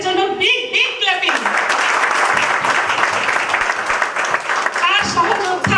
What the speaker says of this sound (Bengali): তো আমাদের রেসপেক্টেড স্যার সুজিত মন্ডল স্যারের জন্য বিগ বিগ ক্ল্যাপিং